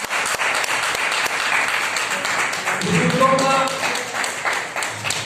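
Audience applause at a ceremony honouring guests for a silver-brick donation toward the Ram Mandir: dense, steady clapping throughout, with a voice rising briefly over it midway.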